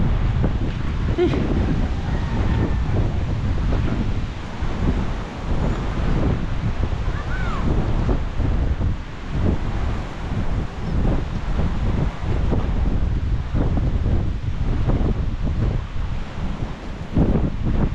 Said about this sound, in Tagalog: Kate naman ang tubig kaso lang napakalakas ng hangin.